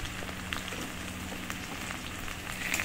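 Okra frying in a pan with salt and turmeric gives off a steady, soft sizzle and crackle, like light rain, with no voices over it.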